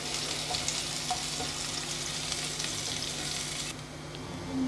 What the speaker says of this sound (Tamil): அதில் வந்து இஞ்சியையும் பூண்டையும் போட்டு நம்ம வதக்க போகிறோம்.